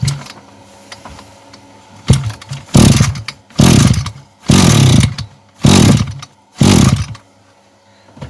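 A Maruyama EE230 petrol brush cutter, recently repaired, is pulled over and catches: a few weak tugs, then five loud rising bursts of engine revving, each cutting off abruptly between pulls, close and harsh.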